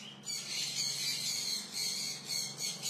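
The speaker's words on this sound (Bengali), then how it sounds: "এবার দেখুন বন্ধুরা কিভাবে পাখিগুলো খাচ্ছে" Conure parrots, a breeding pair with young, give a steady run of harsh, raspy squawks while feeding, close and loud for about three seconds with no talking.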